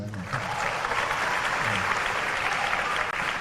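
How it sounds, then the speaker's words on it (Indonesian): An audience of student council leaders applauds at a Jakarta Q&A event, with dense, sustained clapping throughout, close and full, and a faint voice in the background. "tepuk tangan."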